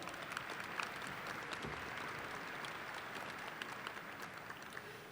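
Commencement audience at Murray State University applauding the concert choir and orchestra: steady, distant-sounding clapping from a large crowd, fairly faint and continuous throughout with no voices.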